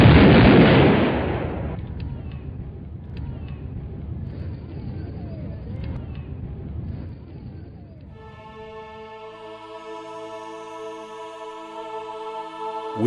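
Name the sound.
ceremonial rifle volley at a memorial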